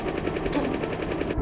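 Helicopter in the video game Pilotwings, a steady close rotor chop with a fast regular beat throughout, over a dense engine rumble.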